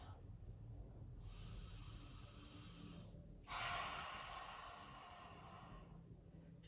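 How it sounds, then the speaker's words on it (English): Two long, soft breaths exhaled slowly during a full-body stretching routine. The second is fuller and stronger than the first, both close and unhurried against quiet room tone. "Just breathing out some of whatever I don't need anymore"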